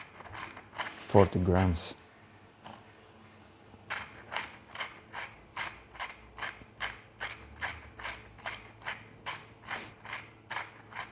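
A manual grinder works salt in a kitchen while sourdough bread is being made. It gives a steady series of about fifteen rhythmic grinding crunches, each turn distinct and close, and a person speaks briefly before it starts.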